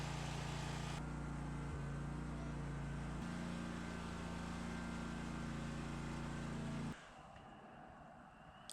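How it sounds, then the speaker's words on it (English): Kawasaki engine on a Simplicity riding mower (FR651V) idling, a steady low mechanical hum with a constant pitch, loud and close, dropping abruptly to a quieter tone near the end. "Now I'm going to let the engine run for a little bit and see if we have any leaks."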